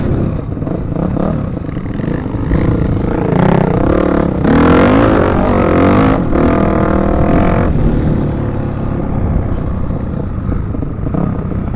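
Honda CRF450X dual sport motorcycle out on a ride, its engine droning loud and steady throughout with swells of revving and a constant rushing, rattly roar.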